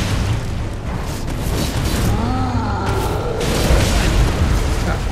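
A mimic in Elden Ring unleashes a fire attack, a continuous deep roaring rumble with booming bursts and crackling whooshes that swell over several seconds.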